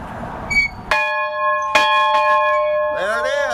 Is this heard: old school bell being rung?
yes